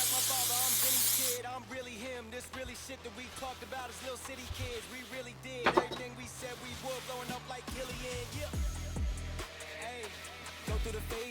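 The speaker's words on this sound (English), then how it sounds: "Now we're going in with the panel cleaner." Panel cleaner is sprayed onto car paint while fixing a paint run, giving a loud, steady hiss for about a second. Rap music with vocals then takes over, and soft handling sounds follow.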